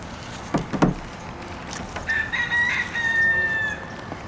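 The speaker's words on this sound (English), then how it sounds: "If you're not from Florida, it's those Ybor roosters." A rooster in Ybor, Florida crows once, a drawn-out strained call rising and falling, heard over outdoor background noise with a couple of short sounds just before.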